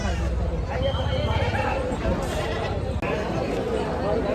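Goats bleating amid a crowded livestock market in Maharashtra, with bleats and stamping over dense crowd chatter and nearby talking.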